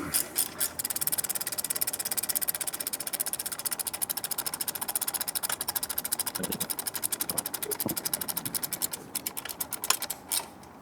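A rapid, steady ratcheting or motor-driven whir drives a 5 mm Allen bit into an exhaust pipe clamp on a Triumph Speed Twin 1200, with fast regular pulses continuing close and evenly throughout.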